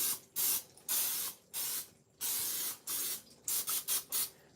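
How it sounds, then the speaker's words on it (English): Nonstick cooking spray sprayed into a bowl for toffee, a series of loud close hissing bursts of varying length, the last few short and rapid, with no talk. "I'm going to spray this bowl with some nonstick cooking spray."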